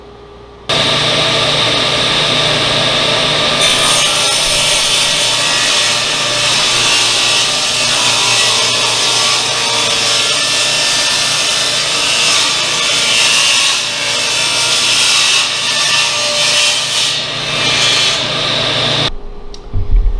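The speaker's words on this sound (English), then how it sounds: "run this through table saw and cut off inch and a half strips" A table saw rips teak into inch-and-a-half strips for cutting boards, a loud, steady, close whine of the blade through the wood that holds for about eighteen seconds before stopping abruptly.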